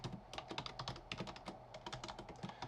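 Typing on a new computer keyboard: a steady run of crisp, close keystrokes at a quick, slightly uneven pace, heard alone with no talking.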